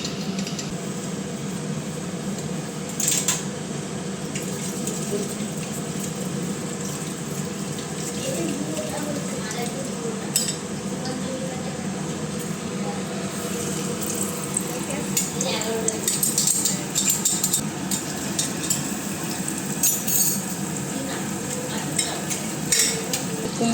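Eggplant and pumpkin fritters dipped in gram-flour batter fry in hot oil, giving a steady, moderately loud sizzle that runs throughout, with a few clinks and scraping sounds on top.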